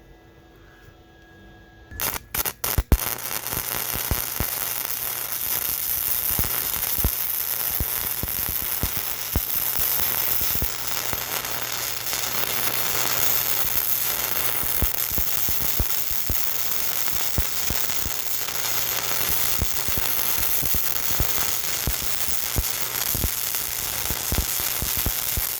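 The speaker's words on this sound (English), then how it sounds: "for a little 110 volt MIG burning flux core," A small 110-volt MIG welder burns flux-core wire in a steady, unbroken crackle and sizzle for about twenty seconds, loud and close, with a low electrical hum underneath, after a few sharp clicks at the start.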